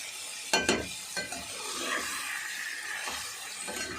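Chicken liver fry with onions is stirred in a pan, a constant close sizzle broken by a few sharp utensil scrapes against the pan, with no speech.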